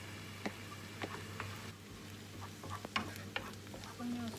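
Onions and mushrooms fry quietly in a pan, a soft continuous sizzle broken by scattered clicks and scrapes of stirring, with no voices.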